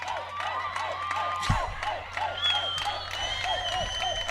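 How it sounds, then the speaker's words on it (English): A loud crowd at an Italy–Norway match cheers and applauds steadily, with shrill whistles and shouts rising over the roar. "And the crowd is going wild, literally, from Norway."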